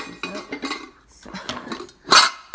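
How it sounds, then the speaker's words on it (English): A metal cooking pan is handled, with soft clatters and scrapes, then a bright, loud metallic clank near the end, close by. "in case you didn't know what a metal pan looks like, here it is, right? Metal pan."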